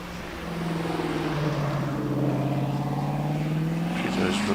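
A TVR Griffith 500 race car leaves the line at the Prescott hillclimb, its engine note rising and holding as it pulls away, heard from a little distance as a steady climbing drone.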